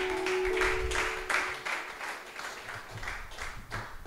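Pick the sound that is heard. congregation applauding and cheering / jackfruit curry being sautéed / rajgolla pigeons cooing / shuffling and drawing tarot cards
congregation applauding and cheering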